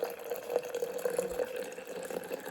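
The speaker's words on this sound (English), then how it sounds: "I'm just gonna pour some in here." Hot water poured into a Bialetti French press, a steady close trickle and splash with faint dripping, running continuously without talk.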